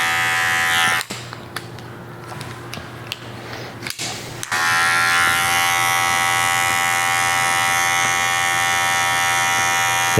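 An electric hair clipper buzzes steadily and loudly while fading the side of a beard during a military haircut, with a brief dip partway through before it runs on continuously.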